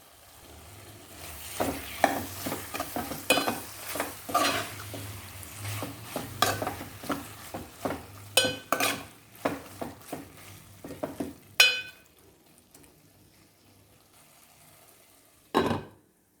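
Small chopped tomatoes sizzle in hot oil in a pan of prawn and okra curry, with repeated scraping stirs of a spoon against the pan that fade to a quiet simmer and a final clatter.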